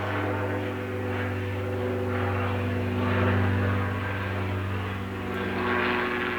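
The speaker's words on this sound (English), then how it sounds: "had to wait for a plane." Propeller airplane passing overhead, a steady low droning hum that swells slightly in the middle and stays loud and continuous throughout.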